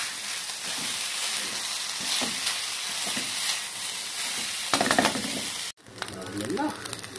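Fried rice being stir-fried in a pan sizzles loudly and continuously, with stirring scrapes and clatters throughout and a brief break before the sizzle resumes.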